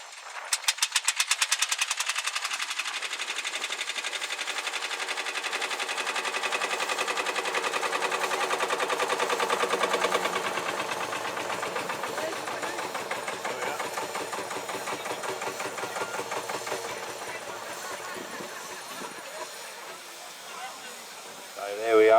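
An old tractor engine chugs steadily in a show arena at a steam and vintage show, with a fast, rhythmic putter and mechanical clatter, running for a long stretch before cutting off near the end.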